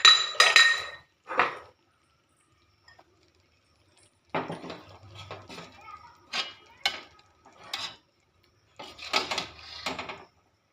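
Utensil clinks and scrapes as cooked ridge gourd with gondhoraj lemon leaves is moved from the pan onto a plate, scattered close bursts separated by quiet gaps.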